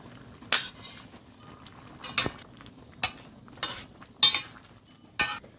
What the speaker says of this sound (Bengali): এখন ভাজা ইলিশ মাছগুলো বেগুনের মধ্যে ছেড়ে দেব